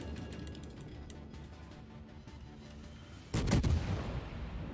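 Heavy naval gunfire from the warship HMS Neptune in a video game: a single loud, broad blast lands near the end, rising over a low rumbling background of engine and sea noise.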